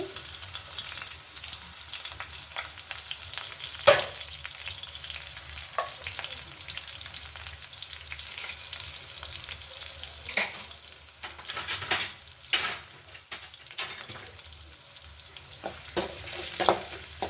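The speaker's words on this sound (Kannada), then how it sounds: "ಕರಿಬೇವಿನ ಸೊಪ್ಪು ಮತ್ತು ಈರುಳ್ಳಿ ಹಾಕ್ಕೊಂಡು, ಈರುಳ್ಳಿ ಹಸಿಮೆಣಸಿನ್ಕಾಯಿ ಎಲ್ಲ ಹಾಕ್ಕೊಂಡು ಫ್ರೈ ಮಾಡ್ಕೊಳ್ಳಿ." Curry leaves, onion and green chillies frying in a pan, a soft continuous sizzle with scattered utensil scrapes and stirring clatter that grow busier and louder toward the end.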